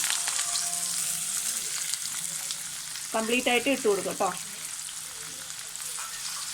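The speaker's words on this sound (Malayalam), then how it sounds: "നമ്മൾ കട്ട് ചെയ്ത് വെച്ച് വെളുത്തുള്ളി ഇഞ്ചിയൊക്കെ ഇതിലോട്ട് ചേർത്ത് കൊടുക്കാം" Garlic and ginger frying in hot oil with mustard seeds, a steady close sizzle running throughout, with a person speaking briefly in the middle.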